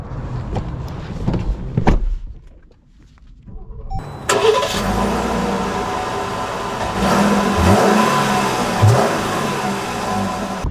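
A Jeep Grand Cherokee engine cranks and catches, then settles into a steady running drone that builds as the SUV revs and drives off, loud and close with no talk.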